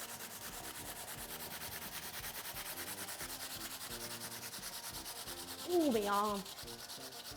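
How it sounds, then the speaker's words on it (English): Raw potato rubbed against a metal grater for rosti, a steady close scraping that runs in quick regular strokes throughout, with a brief spoken exclamation near the end. "Anyway, grate your potato."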